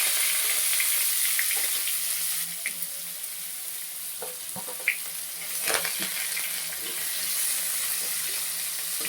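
Onion pieces frying in oil with dried red chillies and curry leaves for upma, giving a soft, steady sizzle with a few faint clinks and scrapes.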